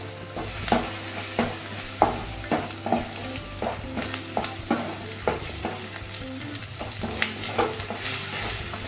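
Chili, kulambu, coriander and garam masala powders stirred in a hot pan for brinjal kulambu with salted dried meat, a steady sizzle and fry under repeated scraping strokes of a spoon, no talking.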